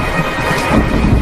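Steady rain pours with a rumbling of thunder in a Hindi moral cartoon story, a continuous broad wash of downpour at fairly loud level with no voices.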